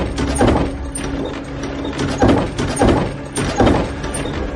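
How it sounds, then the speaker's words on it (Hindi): An upstairs room door bangs loudly in a horror-story sound effect: four heavy, spaced thumps with creaky mechanical rattling between them, up close and alone with no talking. "ऊपर के कमरे का दरवाजा जोर जोर की आवाजें कर रहा था।"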